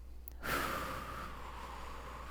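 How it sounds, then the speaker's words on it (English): One deep breath is drawn in through the nose during a guided breathing exercise. It is a close, airy inhalation that swells quickly and then tapers off softly, with no talk over it. "Breathe in."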